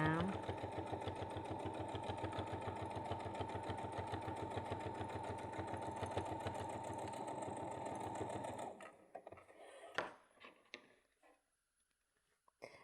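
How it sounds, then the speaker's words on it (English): A sewing machine stitches across a fabric bag in one steady, fast run of close, loud needle pulses for most of the clip, then stops, leaving a few light handling knocks and clicks. "I'm just going to sew across."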